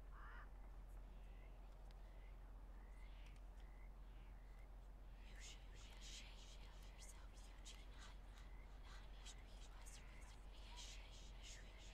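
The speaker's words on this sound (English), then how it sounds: "Oh, even in Eagle Eye, you get the whispers." Ghostly whispers in Red Dead Redemption 2 during Eagle Eye, a hushed breathy voice murmuring faintly over a steady low hum, with soft caw-like calls scattered through.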